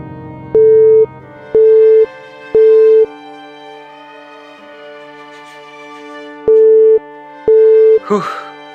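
A telephone busy signal in a Madurese short film sounds as five evenly spaced tonal beeps with short gaps. A soft hum and faint voices sit in the background, and a brief scuffling noise comes at the end.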